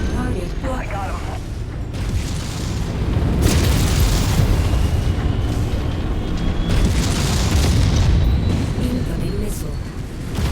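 Booming explosions in a mech combat video game as a target is destroyed, with heavy low rumbling blasts and crackling debris, surging twice over a continuous roar of battle sounds.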